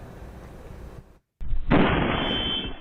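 An illegal fireworks shell lands on a house roof in Petaluma and bursts. Steady background noise cuts out abruptly, then a loud blast hits and a harsh roar rumbles on and slowly fades.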